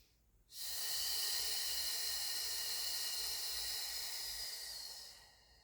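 A single long, steady exhale hisses close to the microphone during a spine-rolling core exercise, rising sharply then fading after about five seconds in an otherwise quiet room.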